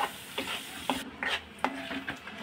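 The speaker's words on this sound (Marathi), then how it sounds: "मसाले जळू न देता आपल्याला हे परतून घ्यायचं आहे" Masala spices stir-fried in a pan over medium heat for matar paneer: a soft sizzle broken by several distinct spatula scrapes and knocks against the pan, close and fairly quiet.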